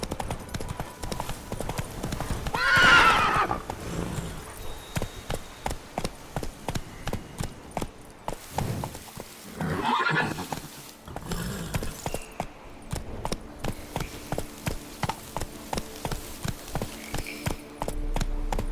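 The horse Roach gallops in The Witcher 3 video game, producing rhythmic clip-clop hoofbeats that swell and fade over a long stretch, with brief louder bursts of movement.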